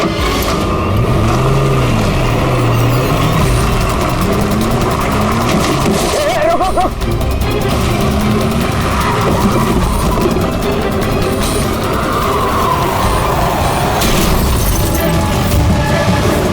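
Car reversing and speeding away at a police blockade in a CID crime drama scene: loud engine revving and tyre noise mixed with dramatic crashes and background score, continuous throughout.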